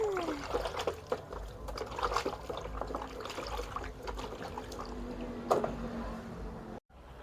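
Running water flows over lemongrass, kaffir lime leaves and lime as they are washed by hand. A faint, steady trickle carries soft splashes and squishing, then cuts off abruptly near the end.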